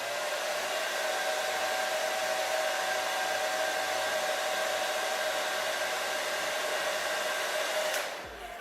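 A hair dryer runs steadily at close range, blowing heat onto glue on a ponytail hair wrap, then cuts off near the end; no talking.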